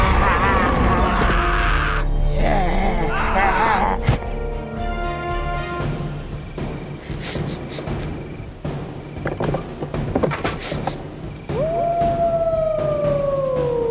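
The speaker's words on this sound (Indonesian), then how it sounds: "Suara lolongan serigala bergema melalui malam yang larut, membuat si penebang kayu tegang." A wolf howls into the night in an animated werewolf story, a long rising and falling wail near the end over a dense, loud background of music and effects.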